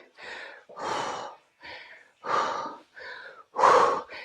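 Heavy panting during a dumbbell workout in a basement, six rough breaths alternating short and longer exhalations, close and loud with brief pauses between.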